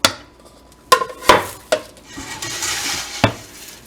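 Fruity Pebbles cereal being stirred into sticky melted marshmallow in a pot, giving several sharp spoon knocks against the pan and a stretch of crackly, sticky mixing sound, with no talking.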